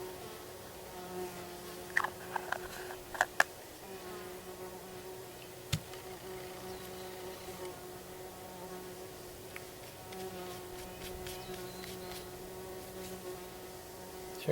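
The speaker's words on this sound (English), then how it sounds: "See, I got a fly buzzing around me, and he's not even landing" A fly circles close by, its steady whining buzz rising and fading as it moves, broken by a few sharp knocks and taps from handling nearby.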